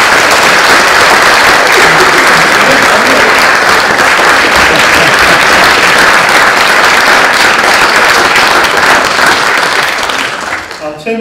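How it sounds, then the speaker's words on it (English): A university conference audience gives sustained, dense applause for about ten seconds, a loud near wash of clapping that thins and fades out at the end. "And I think he deserves a round of applause."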